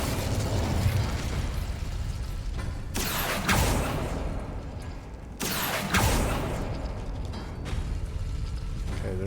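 Incendio fire spell cast in the Hogwarts Legacy video game, producing two loud whooshing bursts of flame that flare and roll off, over a steady rumbling ambient background.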